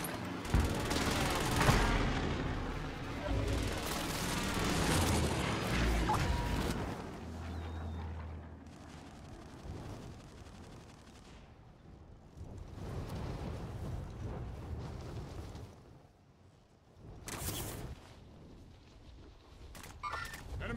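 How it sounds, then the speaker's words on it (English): Explosions from a precision airstrike in the Call of Duty Warzone video game, loud bursts and rumbling blasts rolling through the whole stretch, with broadband booms near the start and again toward the end. "Allied precision airstrike incoming."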